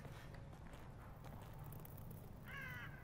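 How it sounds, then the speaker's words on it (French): A single crow in The Evil Within gives one short, harsh caw near the end, over a steady low ambient drone, with a few faint thuds earlier. "Et là, il y a un corbeau, regardez."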